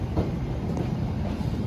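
Steady rolling rumble of the Cikuray passenger train leaving Bandung station, low and continuous with light wheel clatter, close by and without talk.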